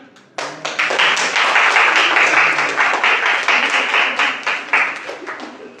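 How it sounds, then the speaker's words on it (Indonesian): An audience at an Islamic motivational talk breaks into applause, a burst of close, crisp clapping that starts abruptly, stays strong and fairly even for about five seconds, then gradually fades. "Tepuk tangan"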